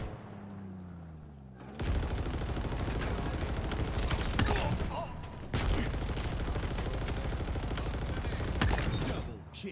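Sustained automatic fire from a Warthog vehicle turret in Halo, loud and continuous in two long bursts with a brief pause between, over engine rumble.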